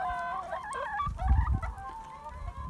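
Free-range chickens on a farm in Bingöl cluck and call continuously, several birds close by with warbling, overlapping vocalisations over a low background rumble, no talking.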